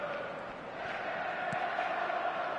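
Steady crowd noise from a football match in the eFootball video game, a continuous roar of spectators at moderate level filling the background, with a brief thump near the middle and no clear speech over it.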